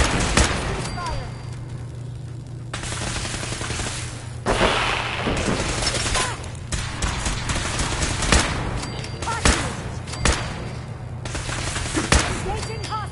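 Gunfire fills a Fallout 4 battle: repeated bursts of automatic fire and sharp single shots crackle in irregular volleys, loud and close, with heavier booming reports mixed in over about thirteen seconds.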